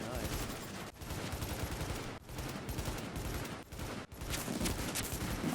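Enemy gunfire in The Division with a military SA-58 rifle in play: dense, continuous bursts of shots and automatic fire fill the whole stretch, loud and close, dropping out briefly several times before resuming.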